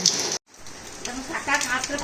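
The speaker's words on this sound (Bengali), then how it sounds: "এই দেখেন কীরকম বৃষ্টি পড়ছে দেখেন" Steady rain patters on a surface, briefly cut off by a short silent gap, then continuing with faint voices and background noise.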